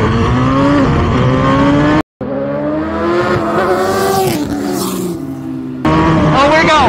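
A 2024 GSXR1000 motorcycle and a Can-Am X3 Turbo RR drag race, engines screaming loudly and climbing through gears with sharp shift breaks, heard close as the vehicles accelerate away.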